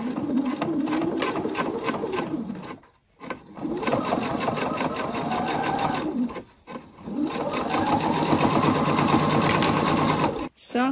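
A sewing machine runs a decorative stitch around a garment neckline in loud, close, rapid bursts, pausing briefly twice between runs of stitching.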